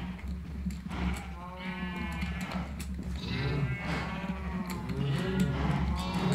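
Cows on a farm in the video game Minecraft moo repeatedly, several drawn-out overlapping calls at moderate distance over a low steady hum.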